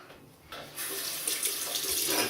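A bathroom tap runs steadily into a sink to rinse after a shave with a Gillette B1 safety razor and Erasmic cream, a close, continuous hiss of water that swells and then holds strong with no talking.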